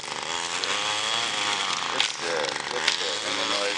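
String trimmer running outside against a building: a continuous buzzing, rasping motor drone at steady loudness with a couple of brief surges, heard without talk.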